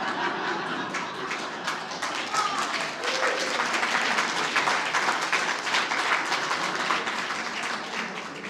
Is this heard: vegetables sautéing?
no